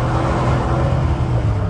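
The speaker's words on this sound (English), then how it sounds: "Let's hear the burble tune. 3, 2, 1. Burble tune activated." A pickup truck's exhaust in its burble tune setting rumbles in a loud, steady, low drone, close by and continuous with no voices.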